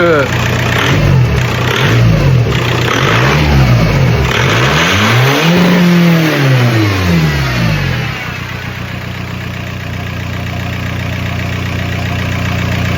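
A Seat Leon engine starting for the first time after an intercooler install, revving loudly in several rising and falling swells close by, then settling into a steady idle, with a voice speaking over it.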